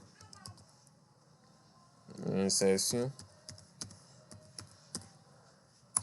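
Typing on a computer keyboard, a scatter of light key clicks across the clip with a short burst of tone-like sounds in the middle, while a person speaks quietly at the start.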